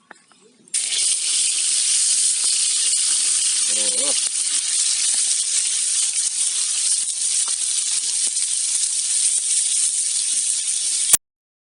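Loud, steady sizzling hiss of small diced meat pieces hitting a hot sac pan for sac kavurma, starting abruptly and continuing without pause, with a brief faint voice underneath.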